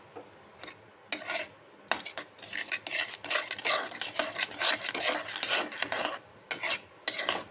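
A spoon scrapes and rubs in quick irregular strokes as powdered milk is stirred into a grated carrot dessert mixture in a pan, close and fairly quiet, with no talking.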